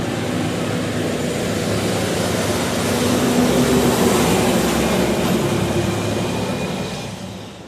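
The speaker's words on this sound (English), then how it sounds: "I'm gonna let the truck go by." An 18-wheeler truck rumbles past close by, a loud sustained roar that swells in the middle and fades away at the end.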